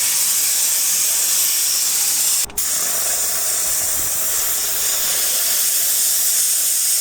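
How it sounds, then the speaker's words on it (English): A steady, loud spray gun hiss runs almost nonstop as a final coat of gel coat is sprayed, broken by one brief pause before resuming. "I'm going to do the final coat of gel coat."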